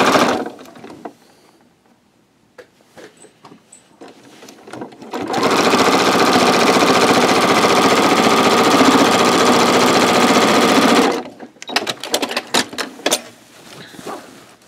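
A sewing machine stitches straight lines for thread painting a beach landscape, running in one loud, even burst of rapid stitching lasting several seconds, bracketed by quieter handling clicks and fabric shuffling.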